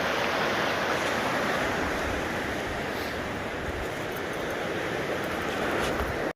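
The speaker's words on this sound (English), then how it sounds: "the creek kind of diverts off where this waterfall is here and comes this way" A mountain creek rushes past a huge boulder and splits off where a waterfall pours in, giving a steady, close, full-bodied roar of flowing water with no pauses.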